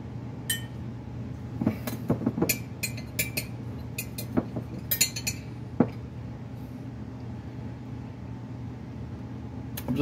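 Minced garlic in a glass jar being handled in a home kitchen, giving scattered light clinks and taps of glass over a steady background hum, with no speech.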